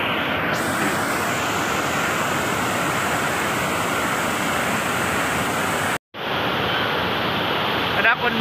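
Sudden floodwater surges down a river where people had been bathing, a loud, continuous broadband roar of rushing water that briefly cuts out near the end and then resumes.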